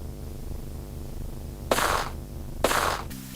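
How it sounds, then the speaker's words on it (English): Two sharp, loud gunshots crack close by in the Sierra adventure game The Dagger of Amon Ra, about a second apart, over a steady low droning roar. "Several gunshots ring out close by."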